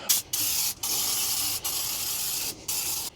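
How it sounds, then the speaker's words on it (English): Brake cleaner sprayed onto the rear differential of a Ford F150, loud close hissing blasts in several long bursts separated by brief pauses. "I'm gonna use some brake cleaner and clean this up."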